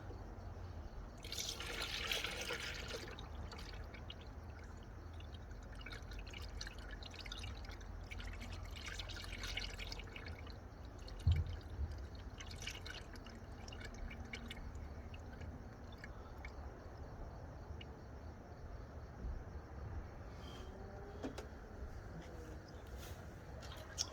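Coolant drains from the radiator petcock of a 2014 Dodge Challenger 5.7L Hemi in a faint, steady trickle with occasional drips, quiet and continuous, and no one speaks.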